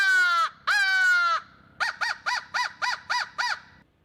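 Two long, drawn-out crow caws followed by a quick run of seven short, evenly spaced caws, loud and close, produced by a Turkey Reaper crow call imitating a crow.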